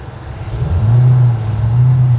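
A video game truck's exhaust drones low and steady, swelling slightly as it revs and then holding a deep rumbling tone.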